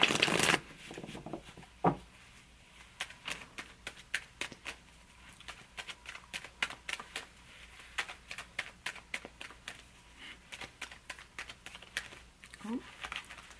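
Tarot cards being shuffled by hand, a steady run of soft, close riffling and flicking taps in quick irregular bursts, with an earlier knock and light speech mixed in.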